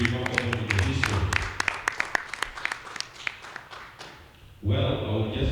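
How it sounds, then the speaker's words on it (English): A crowd applauds for telecom sponsor MTN at a South Sudan Premier League partnership event, a dense burst of clapping that thins out before a voice takes over on a public address system. "let us clap to MTN Telecommunication Company, who is the main sponsor"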